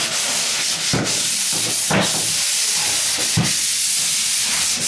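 A sanding tool dusts down a drywall top coat in a corner angle, making a continuous dry rasping scrub with brief louder swipes at intervals, close and alone.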